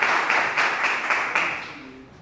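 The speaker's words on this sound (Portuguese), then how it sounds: "um aplauso para o Vitor" An audience at a corporate leadership event breaks into brisk applause for a speaker, the clapping strong at first and then fading away within a couple of seconds.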